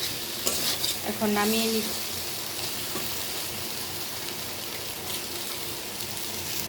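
Taro stolons being fried and stirred with dried fish in a pan give off a steady, close sizzle, with a few scraping stirs early on and one brief spoken remark.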